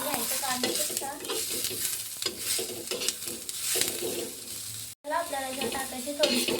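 Chopped onion, ginger and garlic frying in hot oil, a continuous crackling sizzle with scraping stirs of a spoon, broken by one brief dropout near the end.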